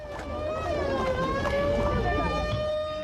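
Wailing sirens rise and fall in long sweeps as vehicles accompany a drug trafficker's funeral procession in Pacho, Colombia, fairly loud and continuous with traffic noise underneath.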